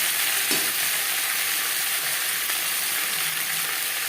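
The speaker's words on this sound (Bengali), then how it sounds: "ফোড়নের সাথে আলু বেশ করে মিক্স করে দেবো" Potato pieces fry with a spice tempering in a pan for a fish curry, a steady loud even sizzle close by with a faint stirring knock near the start.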